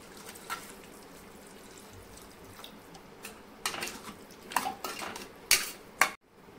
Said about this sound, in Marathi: आणि 1 ग्लास मी याच्यामध्ये पाणी टाकणार आहे.